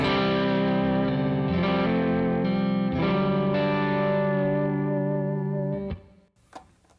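A distorted electric guitar rings out with wavering, bending pitch from the bar, sustaining loudly before cutting off into a few faint rattles near the end.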